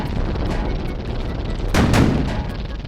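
In the Sprocket tank game, a loud cannon shot booms over a constant rumbling battle background, with the sharp blast arriving midway and its roar fading slowly.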